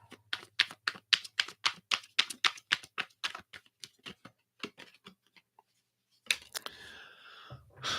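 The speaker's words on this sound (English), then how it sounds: "I'm just going to shuffle these real quick." Rapid, crisp riffle clicks of tarot cards being shuffled in quick bursts, a short pause, then a few more flicks and a soft slide.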